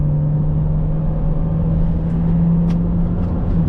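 A 2015 Chevrolet Cruze LTZ with its 144 hp engine pulling hard on a highway, heard from inside as a steady loud engine drone with a rising whine and road rumble and no voices.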